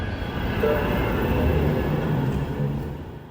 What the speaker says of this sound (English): So on London Road, you'll see that the trams actually enter here